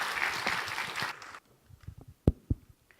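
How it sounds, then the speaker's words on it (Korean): Church congregation applauding to welcome a deacon coming forward, a short burst of clapping that cuts off after about a second, followed by scattered thumps and faint movement. "이렇게 큰 박수로 맞아주시도록 하겠습니다"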